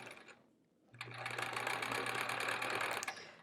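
A sewing machine stitches quilt blocks, starting after a short quiet pause and then running in a fast, steady mechanical whir for about two seconds before stopping, close and fairly loud.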